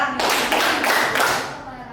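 A classroom group claps hands in a counting game, a burst of crisp claps landing close together near the start and then fading away, with voices faintly mixed in.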